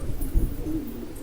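Domestic pigeons kept as pet birds give a soft, low cooing close by, a short murmuring call with faint fluttering background noise and no talk.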